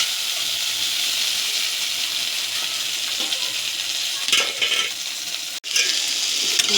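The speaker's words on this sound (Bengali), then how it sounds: "চাল জল ফুটছে" Rice, water and mixed vegetables for khichuri boil in a pot, giving a steady bubbling hiss with a few louder stirring clatters near the end.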